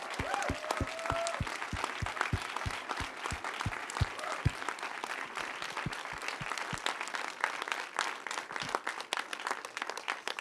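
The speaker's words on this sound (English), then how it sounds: "how about one more round of applause for our Eagle County," A small audience claps warmly for Eagle County, Colorado storytellers at a community storytelling event, steady applause lasting about ten seconds with a few sharp individual claps standing out close to the microphone.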